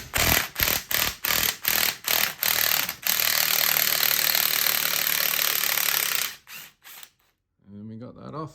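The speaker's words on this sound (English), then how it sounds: "now we're gonna see if we can crack the top hat nut" A wrench cracks loose a 21 mm strut top hat nut on a VW or Audi strut: a rapid string of short mechanical bursts, then a sustained rattling buzz, a few final stutters and a brief quiet tail.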